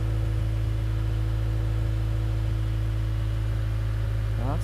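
A 2015–2019 Subaru WRX engine idles steadily after a Nostrum high-pressure fuel pump install for E100, a constant low drone with a faint rev-like rise at the very end, no talking.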